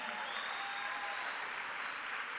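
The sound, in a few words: audience applause in a church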